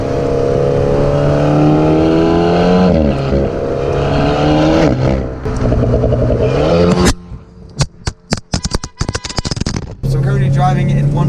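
An Alpine A110 sports car engine revs loudly with rising and falling pitch, then a burst of sharp crackling exhaust pops, before the steady engine drone returns.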